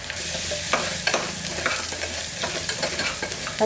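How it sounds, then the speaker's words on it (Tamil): Onions sauté in a pan for Kongu-style mutton bone curry, giving a continuous close sizzle marked by a few scraping stirs, with no voices present. "வெங்காயம் நல்லா வதங்கிடுச்சு"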